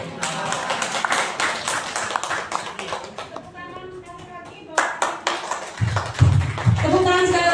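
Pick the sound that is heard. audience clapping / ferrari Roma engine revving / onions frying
audience clapping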